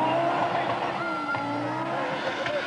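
Peugeot rally car at speed on the 1982 Acropolis Rally, a steady engine drone with shifting pitch and some tire noise, heard under a voice talking.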